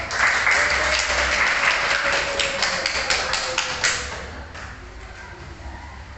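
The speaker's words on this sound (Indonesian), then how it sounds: "Silakan tepuk tangan untuk kelompok 1." A classroom of students applauding a presentation group, with brisk close claps that fade out near the end, and faint talk underneath.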